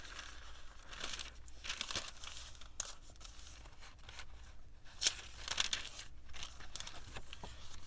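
Sheets of tracing paper with printed botanical images being handled and flipped, giving irregular crinkly rustles and sharp papery snaps, close up and fairly quiet.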